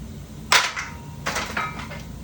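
A barbell loaded with weights slams down after a set of military presses, one sharp loud crack followed by a few quieter clanking impacts and rattles as the plates settle.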